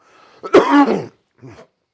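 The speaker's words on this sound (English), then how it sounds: "Excuse me. Sorry about that. I coughed." A single sharp, forceful cough bursts out close by, followed after a short pause by a softer, brief throat sound.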